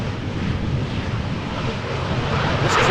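Strong crosswind buffets the microphone at Amsterdam Schiphol Airport, a loud, steady broadband roar and rumble that swells slightly toward the end.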